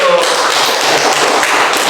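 Classroom applause for a student group, a dense burst of many hands clapping close by, loud and continuous over a short stretch.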